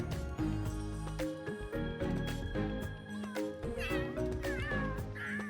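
Cats in the video game The Sims 3 meow repeatedly, drawn-out and varied calls, some whiny and caterwauling, layered over a busy game soundtrack with overlapping tones.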